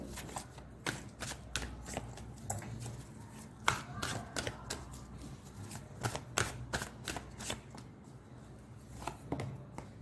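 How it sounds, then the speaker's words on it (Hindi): Tarot cards being shuffled and drawn from a deck, a run of crisp rapid riffles and slaps close by that sound continuously for several seconds, with a faint voice now and then underneath. "अब मैं ये क्वीन ऑफ पेंटिकल्स को एक्सप्लेन करने के लिए कार्ड निकालती हूँ"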